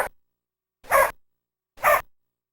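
A dog gives two short, sharp barks about a second apart, close by and otherwise silent, with a faint cut-off sound at the very start.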